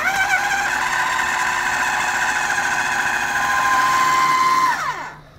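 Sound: food processor blending smoked salmon pate

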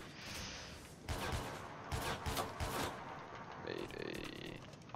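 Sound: automatic sniper rifle shotgun combo firing in video game

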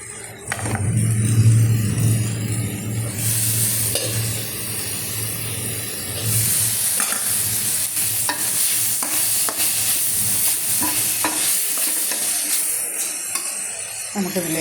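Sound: onion, garlic and ginger sautéing in coconut oil

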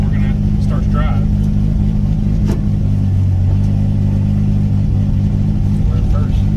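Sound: BMW E30 with 2JZ engine and DCT gearbox starting to drive

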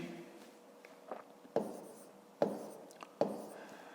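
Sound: writing by hand on paper

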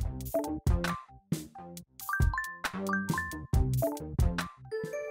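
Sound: phone email notification sound

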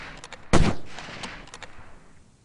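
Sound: rifle gunshots in the video game Delta Force 2

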